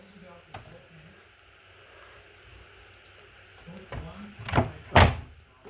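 The door of an LG front-load washing machine is pushed shut, ending in two firm thuds close by after a quieter stretch, with a person talking nearby.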